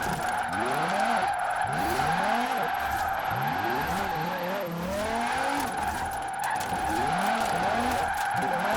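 Car sliding sideways in Forza Horizon 4, sustained tire squeal with rising and falling engine revs through repeated drift transitions, loud and close throughout with no talk.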